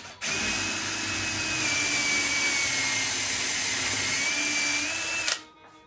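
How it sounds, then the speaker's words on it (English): Drill fitted with a Trend bit for Confirmat screws boring into cupboard board in a single continuous run of about five seconds, loud and close with a steady whine, then spinning down; no talk. "now I'm using the trend bit that's meant for the conformat screws."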